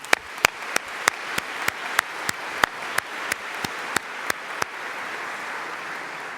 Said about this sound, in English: So let's give our staff, our incredible staff, a round of applause.